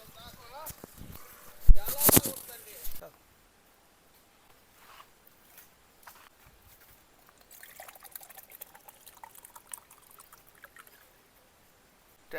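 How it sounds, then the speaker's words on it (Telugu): Coconut water poured and drunk from a fresh coconut in a coconut grove gives a short, close splashing gurgle lasting about a second, then fades to near quiet with only faint, scattered small sounds. "టెంకాయ తోపులో టెంకాయ నీళ్ళు తాగుతున్నాడు."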